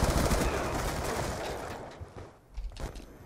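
Dense gunfire from Call of Duty Black Ops 2 gameplay, a loud continuous rattle of shots that thins out toward the end, with no talk over it.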